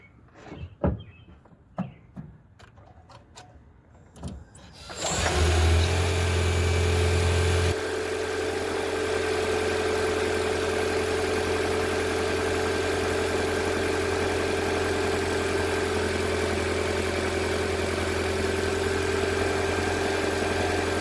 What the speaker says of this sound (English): You'll hear the battery start to hum, and then I'll give it some throttle until the engine kicks on.